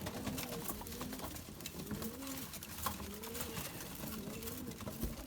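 Pigeons coo in a coop while feeding, with soft, repeated throaty calls overlapping at a low, quiet level against a faint rustling background.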